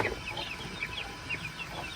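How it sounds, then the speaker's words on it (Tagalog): Chickens cluck softly nearby while chicks peep in short high chirps, the sounds overlapping in a busy coop on a small farm. "Ito ating manok. Yan, may mga sisiw."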